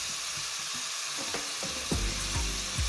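Onions, tomato and coriander frying in a pan for an onion dry fish curry, a steady loud sizzle with stirring scrapes and low knocks of the spoon.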